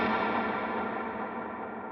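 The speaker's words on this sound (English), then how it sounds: "I have a modulated hall reverb, medium mix, with around 6 seconds of decay" Electric guitar washed in a modulated hall reverb with a medium mix and long decay, a dense shimmering sustained tail slowly fading, with no other sounds.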